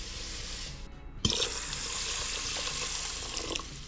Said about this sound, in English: And next I'm going to add my water, which I already have these measured out.